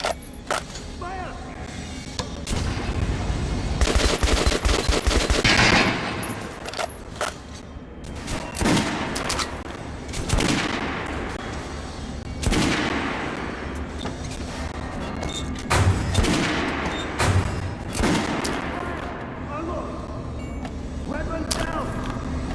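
Gunfire in Metro Last Light Redux comes in repeated bursts and single loud cracks over about twenty seconds, mixed with mechanical clatter and shouted voices.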